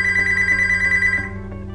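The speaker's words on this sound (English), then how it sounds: "Follow instructions when the phone rings." Landline-style telephone ring during Laser Shield home alarm system activation: a single loud electronic ring with a fast warbling trill, lasting just over a second before fading, with no talking.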